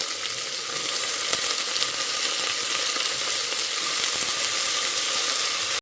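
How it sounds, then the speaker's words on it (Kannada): Jackfruit pieces frying with onions in a hot pan give a steady, close sizzle with faint stirring scrapes, constant and loud, no voices. "ಈಗ ಹೆಚ್ಚಿಟ್ಕೊಂಡಿರುವಂತಹ ಹಲಸಿನಕಾಯಿ ಹೋಳುಗಳನ್ನು ಇದಕ್ಕೆ ಸೇರಿಸ್ಕೊಳ್ತೇನೆ."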